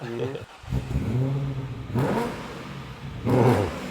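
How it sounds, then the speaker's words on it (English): A 5-litre V8 car engine with a cross-plane crankshaft revs in muscle-car fashion, throaty surges rising and falling under people talking nearby. "So it sounds like an American car, a muscle car."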